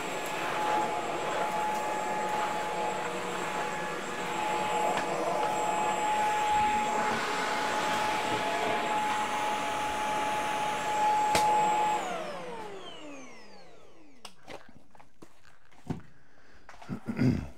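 A lightweight portable vacuum cleaner runs loud and steady for about twelve seconds, picking up dirt and debris from a floor, then its motor winds down and stops, followed by a few scattered clicks and knocks.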